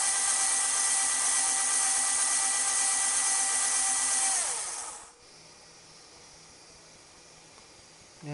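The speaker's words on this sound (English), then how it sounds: "So we'll run the carriage to the far end to make sure the screws are lined up." The carriage of a CNC Taig lathe travels along its drive screws to the far end with a steady high whine, which then drops in pitch and stops abruptly, leaving quiet room noise.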